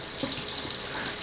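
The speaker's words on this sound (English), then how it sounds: "and this is the cold water." Cold water streams from a repaired kitchen faucet into the sink, a constant close rushing hiss that holds steady throughout, with no voices.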